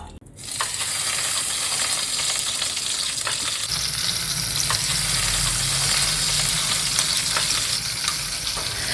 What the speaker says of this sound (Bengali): কাঁকড়াগুলোকে একটু হালকা করে ভেজে নিয়েছি